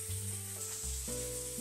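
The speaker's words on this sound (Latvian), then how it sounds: "ka panna ir sakarsusi. Liekam filejas." Chicken fillets sizzling in a hot pan, a steady, dense crackle of frying with a low tonal hum underneath, fairly quiet and with no talking.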